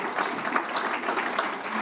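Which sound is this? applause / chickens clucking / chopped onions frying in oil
applause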